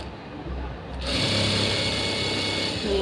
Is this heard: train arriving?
no